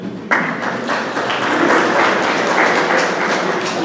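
At an animal show in Mauritius, a crowd suddenly breaks into applause after a brief quiet moment, then keeps up a steady, full round of clapping that stays close and even throughout.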